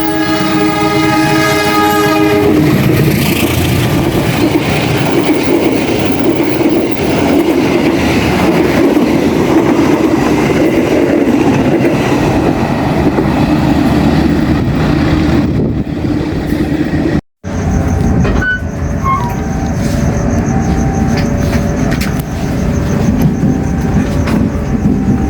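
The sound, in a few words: Kahuripan passenger train passing with horn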